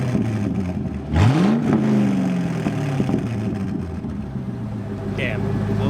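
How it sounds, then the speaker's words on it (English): A C5 Corvette exhaust rises in a quick rev that sweeps up and falls back. A rough, rumbling idle follows, with a voice talking over it. "you're really gonna hear the exhaust"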